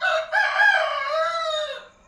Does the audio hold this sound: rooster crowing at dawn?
yes